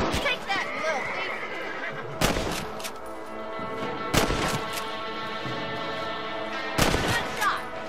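Gunfire rings out in Red Dead Redemption: three sharp, loud shots spaced a couple of seconds apart, with horse whinnies and a lingering outdoor ambience between them.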